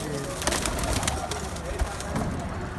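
Breeder pigeons on a rooftop loft in Rawat, cooing softly and repeatedly amid flutters and background rustle, with someone talking over the birds.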